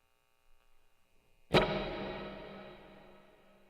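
A single plucked electric guitar chord rings out with heavy reverb and a long delay, its lush ambient tail fading slowly over several seconds.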